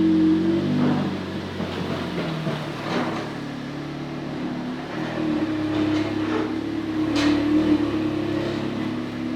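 An Audi S3 with a Stage 2+ tune runs on a Mustang dyno, its engine droning steadily with several rising rev swells, moderately loud and unbroken, with no talking.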